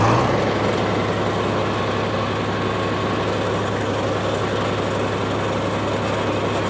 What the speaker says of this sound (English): it's just got a powerful diesel engine